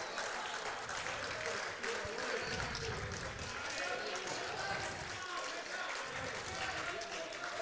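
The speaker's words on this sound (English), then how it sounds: "All the St Kilda supporters applauding his effort there." Applause from St Kilda supporters in the crowd at a women's football match against Collingwood, a steady broadband patter of clapping sustained throughout, with crowd noise and some talk mixed in.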